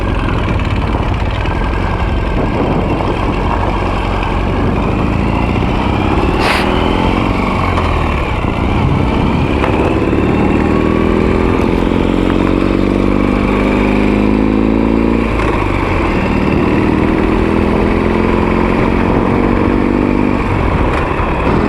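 A Ural motorcycle rides offroad in the Utah desert, its engine droning loud and steady with rising and falling pitch sweeps as it accelerates, under constant rumble and wind noise.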